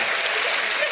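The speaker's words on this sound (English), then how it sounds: "That's an applause." A brief burst of applause from a small group, dense and steady for about a second.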